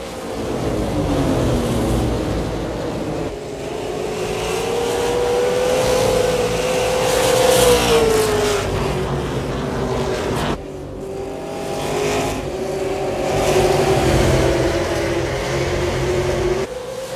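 Stock cars roar around the oval at Five Flags Speedway on a restart, loud sustained engine drone with rising and falling pitch as several cars pass close by, continuous throughout.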